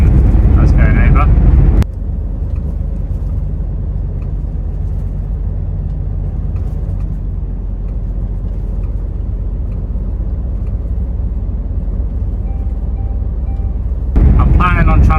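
A lorry rolls across a bridge over a river on a haul from Italy to the UK, heard from inside the cab as a steady, loud low engine and road rumble that continues unbroken throughout.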